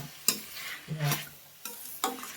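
Broad bean and tomato curry stirred in a pan, four separate scraping strokes of the spoon over a soft simmering sizzle, close by and alone.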